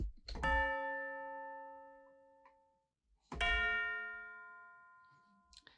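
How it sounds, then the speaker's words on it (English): Two resonant tubular bell strikes, each ringing out with long shimmering overtones and slowly decaying, the second following after a brief silence. "And the final one was just tubular bells that sound like this."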